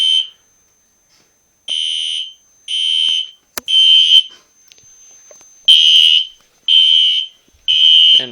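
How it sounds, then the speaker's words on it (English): A single fire alarm horn sounds during a system test, blaring in repeated loud, evenly spaced bursts of about half a second with short silent gaps, close and clear with no talking. "So many strobes, only one horn."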